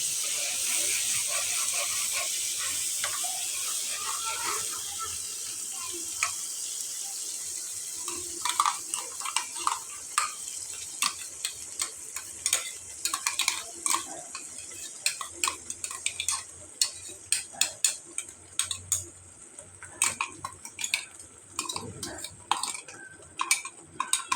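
Chutney ingredients for kara chutney sautéing in a pan, heard as a quiet steady sizzle that gives way to rapid clicking and scraping of a spoon stirring against the pan, with no talking.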